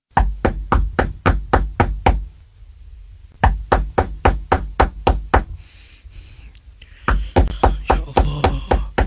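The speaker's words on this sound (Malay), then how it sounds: "Kemudian sekali lagi ada bunyi orang ketuk pintu saya." Sharp knocks on an apartment door at night come in quick bursts of several raps, pausing between rounds, loud and close with no talk.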